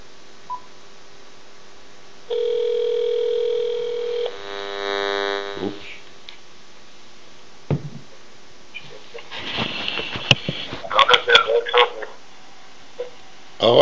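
During a live call-in broadcast on a Persian television channel, a telephone line gives a steady dial tone, then a rapid run of touch-tone dialing beeps, followed by clicks and line noise.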